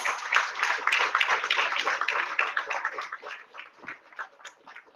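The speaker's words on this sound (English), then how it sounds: "Can we have a big round of applause?" An audience at a career seminar applauds a prize winner, a dense burst of clapping hands that peaks early and then thins out and fades over a few seconds.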